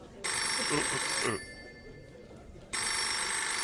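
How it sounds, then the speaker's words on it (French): An early telephone rings in two loud bursts of electric bell trill separated by a short pause, with a brief voice between them. "ma toute nouvelle invention, le téléphone"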